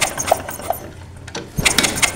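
A Honda Supra 125 motorcycle being kick-started: a few short mechanical bursts and clatters from the kick lever and engine, with a sputtering catch near the end, close up and otherwise quiet.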